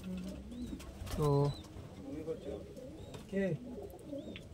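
Giribaj pigeons of an old-generation line coo in a loft, soft rolling calls rising twice over background chatter, with someone speaking nearby.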